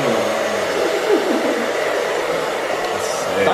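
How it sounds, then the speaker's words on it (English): A heat gun or blow dryer is heating vinyl on replica Bride bucket seats, giving off a loud, steady, close airy whir that holds constant throughout. "just go over it with a heat gun or a blow dryer and it'll go back to its original shape"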